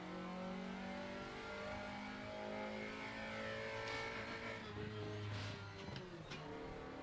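Race car engine in the RaceRoom sim racing game, a loud steady high-pitched whine climbing through revs with quick upshifts that step the pitch down, heard continuously from the cockpit without speech.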